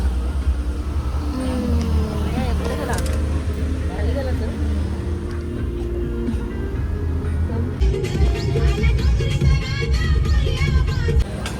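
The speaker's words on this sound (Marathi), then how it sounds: "दमभर ट्रॅफिक आहे आता." Busy road traffic on the way to Pune, India, with a steady wash of car and vehicle engines rumbling close by; voices talk over the traffic throughout.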